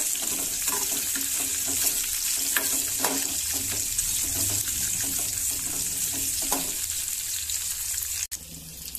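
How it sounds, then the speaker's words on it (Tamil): Chopped large onions and dried red chillies sauté in a pan for peepal leaf sambar, giving a steady, close sizzle and frying hiss with a few scraping stirs and a sharp knock near the end. "கட் பண்ணி வச்சிருக்க பெரிய வெங்காயம் ஆட் பண்ணிக்கலாங்க. இதை நல்லா வணக்கி விட்டுடலாம்."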